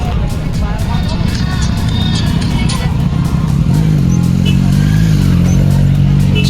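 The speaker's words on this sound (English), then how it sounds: "see all the big bikes, big massive motorcycles" Big, heavy motorcycles rev and rumble at India Bike Week, a steady loud engine drone with rising throttle swells, and crowd talk runs underneath throughout.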